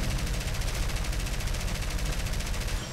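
Aircraft machine gun fire in War Thunder, a rapid unbroken rattle of close, loud shots in a tight rhythm lasting the whole moment, with no speech over it.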